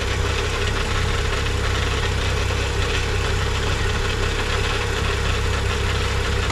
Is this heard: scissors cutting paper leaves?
no